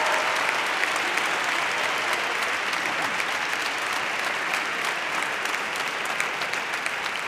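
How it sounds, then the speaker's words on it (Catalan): Dense, steady applause from a crowd at a university graduation ceremony, many hands clapping evenly and continuously throughout without voices on top. "Podem seguir amb els aplaudiments perquè a mesura que aneu avançant van disminuint la intensitat"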